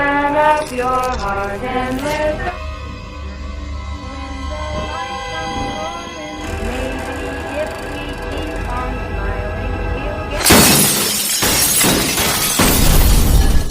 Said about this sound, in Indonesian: Tiba-tiba semua lampu pecah, ruangan pun menjadi gelap gulita.